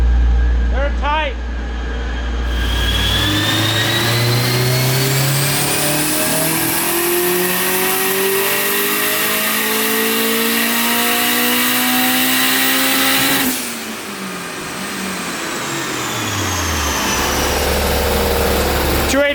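Turbocharged Honda S2000 on a dyno, its engine climbing in a long loud rev that rises steadily in pitch, drops off abruptly, then settles back to idle with a fresh rise at the end.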